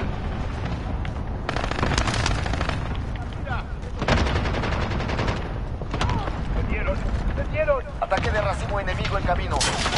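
Rapid bursts of video game gunfire crack and rattle in dense volleys, loud and close, with booming shots and shouting voices mixed in throughout.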